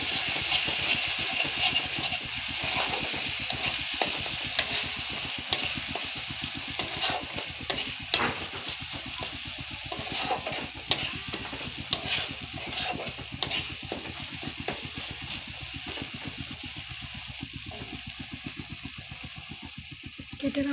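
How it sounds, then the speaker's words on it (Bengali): Egg curry masala is stirred and sautéed in a pan, making a steady loud sizzle with continuous scraping and stirring strokes that last throughout without any voices. "নাড়াচাড়া করে কষতে কষতে একটু জল দিয়েছি।"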